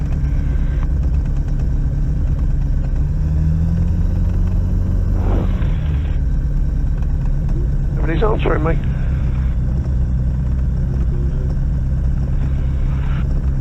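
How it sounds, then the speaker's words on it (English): A motor glider's engine drones steadily throughout as it backtracks along hard runway 27, a continuous low rumble with a person speaking briefly over it. "motor glider Golf Oscar Sierra is backtracking on 27 hard"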